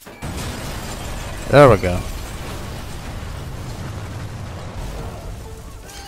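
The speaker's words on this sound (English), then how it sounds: "Maybe if we shoot a dynamite" Dynamite blows up in the World War II sniper game Sniper Elite 3, set at Halfaya Pass: a single short, muffled blast over steady game ambience, while someone talks briefly over it.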